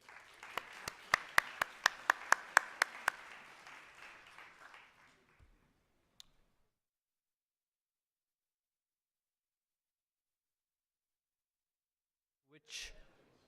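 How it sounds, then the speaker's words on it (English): A small group at a CEO conference claps for a few seconds with some sharp, loud individual claps, the applause tapering off into silence before a brief noise at the end. "I'd like to give everybody a round of applause here."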